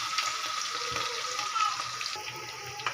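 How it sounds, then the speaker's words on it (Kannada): Onion frying in a pan with green chilli makes a soft, steady sizzle, faint and continuous, with a low voice under the hiss. "ಈರುಳ್ಳಿ ಚೆನ್ನಾಗಿ ಫ್ರೈ ಆದಮೇಲೆ"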